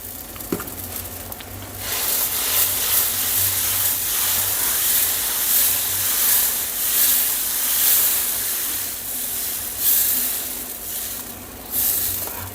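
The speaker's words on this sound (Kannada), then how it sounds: "ಈಗ ಸಂಪಣವನ್ನು ಬಿಡೋಣ" Dosa batter poured onto a hot pan for masala dosa, a loud close continuous sizzle and hiss that swells and fades over several seconds, with no voices.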